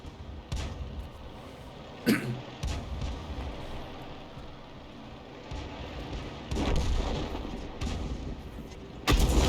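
A 105 leFH18B2 artillery gun in a tank battle video game fires, with several sharp booms spaced across the clip over a steady battlefield rumble, loud and close.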